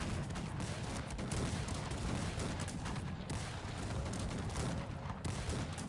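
Massed gunfire and cannon booms from a Cossacks 3 battle between England and Spain, a dense continuous din of volleys and blasts that keeps going without a break and stays loud throughout.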